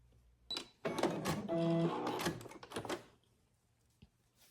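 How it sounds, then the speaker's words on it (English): A sewing machine runs a quarter-inch seam across a pleat on a memory keepsake teddy bear, one short, close burst of stitching lasting about two seconds amid a few soft handling clicks, otherwise quiet. "I just sew a 1/4 inch seam allowance right across that line."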